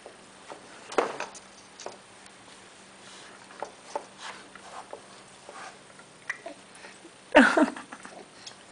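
Gia the dog gnaws on a giraffe chew toy nearby, giving soft, irregular clicks and tapping bites, with one louder scrabbling burst near the end.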